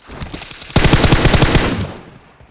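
In PUBG, a few faint shots lead into a loud, rapid burst of automatic gunfire lasting just over a second, then trailing off quickly.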